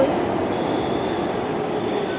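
A metro train rushes past at speed, a steady loud rumble of wheels and rail noise filling the whole stretch with a faint squeal on top.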